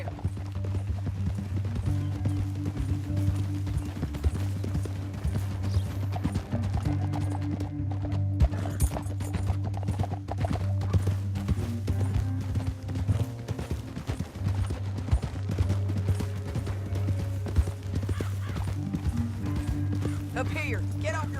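Steady clip-clop of galloping hooves runs throughout the video game Red Dead Redemption 2, layered under a constant low rumble and occasional voices, like a busy chase scene.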